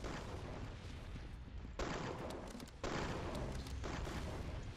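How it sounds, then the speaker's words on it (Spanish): Dense, continuous gunfire from the online shooter game Arsenal, with rapid overlapping shots filling the whole stretch and brief shifts in intensity, loud and close with no voices over it. "fallo todos los disparos"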